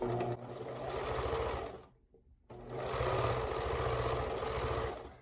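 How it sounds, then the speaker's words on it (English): A sewing machine runs a multi-step zigzag stitch, attaching elastic to lace for underwear. It whirs steadily and close, stops briefly in the middle, then starts again. "So I'm using a multi-step zigzag stitch to apply this elastic, and I'm pulling on it ever so slightly."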